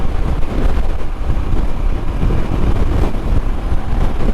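Strong wind buffets a microphone on a beach at Loiza, Puerto Rico, a constant loud roar and rumble with surf-like noise underneath, no voices.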